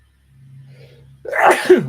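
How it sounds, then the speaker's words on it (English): A single close sneeze, preceded by a faint hum and a quick intake of breath, then a sharp explosive burst. "I gotta sneeze."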